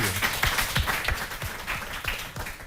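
Studio audience applauding a young contestant on a French quiz show, a lively mix of many clapping hands with some louder individual claps standing out, steady throughout.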